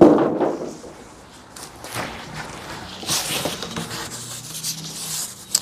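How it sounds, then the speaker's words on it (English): Large sheets of cardboard packaging from an air handler unboxing are handled close by, with scraping, rubbing and flexing rustles and a sharp knock at the end. "it's so unusual for me to get really big pieces of cardboard like that"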